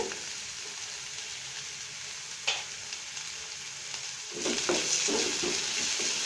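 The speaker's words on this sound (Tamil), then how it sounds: "எண்ணெய் ஊற்றியாச்சு இப்போ நம்ம கடுகு சீரம் போடலாம் வெங்காயம் போட்டுக்கலாம் பூண்டு" Onion, garlic, mustard seeds and cumin fry in hot oil for a lentil curry, giving a steady close hiss that swells louder and crackles harder partway through, with a brief stir and no talking.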